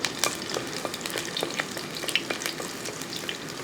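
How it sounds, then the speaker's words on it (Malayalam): Garlic frying in hot oil with fenugreek for a mackerel fish curry, a fine steady crackle with rapid scraping taps as it is stirred, close and fairly soft, no speech. "ആ വെളുത്തുള്ളി ആദ്യം അങ്ങോട്ട് ഇട്ട് കൊടുക്കാം. ഒന്ന് ഇളക്കി കൊടുത്ത്"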